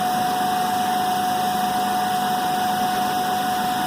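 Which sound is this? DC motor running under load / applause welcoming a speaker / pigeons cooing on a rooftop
DC motor running under load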